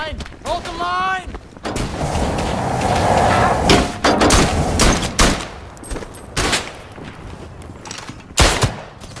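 Gunfire in a World War I trench shooter on Xbox One, loud close shots and bursts crackling through a steady roar of distant battle, with an indistinct voice briefly at the start.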